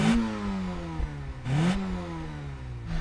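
VW Golf GTI with a 16-valve, 2-litre engine revving hard near by, two sharp throttle blips with rising then falling pitch, about a second and a half apart, over a steady idle.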